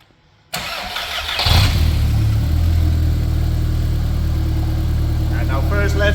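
A VW Golf Mk2 project car, a trackday build, cranks briefly after a click and fires up, then settles into a loud, steady idle close by, with a voice speaking faintly near the end.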